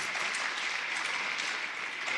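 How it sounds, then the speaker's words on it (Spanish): A church congregation applauds the Lord during a Spanish-language sermon, a dense, steady wash of clapping from many hands filling the room. "dale un aplauso al Señor"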